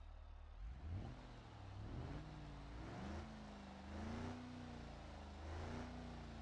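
A car engine in BeamNG.drive, running low on oil, cranks to life and then revs in several rising and falling bursts, each swell droning low and moderately loud with brief pauses between.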